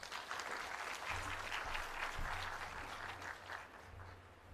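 Audience applause fills the hall at an official international forum hosted by Tanzania: steady, dense clapping from many hands that carries on for several seconds.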